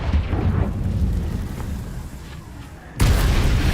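A Confringo fire spell in Hogwarts Legacy: a long rumbling, roaring blast that fades over a few seconds before a second loud boom hits abruptly near the end.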